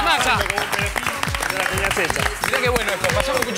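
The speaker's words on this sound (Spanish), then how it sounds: "¡Aplausos para la masa!" Studio applause and cheering on a cooking program, greeting a ready-made dough, with dense clapping mixed with lively voices that stays loud and steady throughout.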